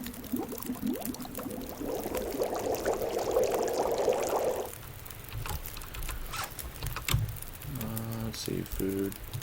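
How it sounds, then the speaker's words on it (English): Water is brought to a boil over a fire in The Long Dark: a few seconds of pouring, bubbling patter that then falls away into quieter ambience, followed by a couple of short interface tones. "Okay, boil the water."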